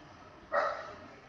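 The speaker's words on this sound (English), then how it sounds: "My dog is barking." A pet dog barks once in a home, a single sharp bark at moderate distance over a quiet room background.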